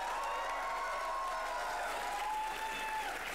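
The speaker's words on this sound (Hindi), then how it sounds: "भाई तालियां अदा के लिए." A studio audience at a TV comedy show, Comedy Nights Live, applauds in a steady, dense wash of clapping that continues throughout.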